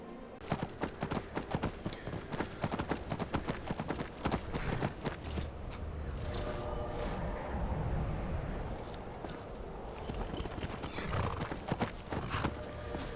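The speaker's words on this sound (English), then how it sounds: "See Inigo's horse over there." Horse hooves clip-clop steadily in Skyrim, a quick run of hoofbeats that eases into a softer stretch, then picks up again, with a whinny heard along the way; no talk over it.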